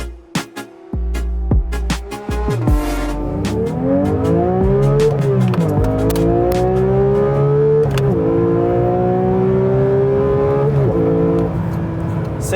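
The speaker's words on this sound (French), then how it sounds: "Ce qu'on a sous le capot, arrière évidemment, 6 cylindres à plat de 4 litres, non turbo compressé qui fait 502 chevaux" A 2022 Porsche 911 GT3 Touring with a naturally aspirated 4-litre flat-six idles, then revs loudly and climbs through gears, its engine note rising and dropping with each shift, close and without talk.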